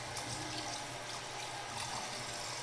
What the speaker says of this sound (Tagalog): Malakas yung tubig dito, yung pressure.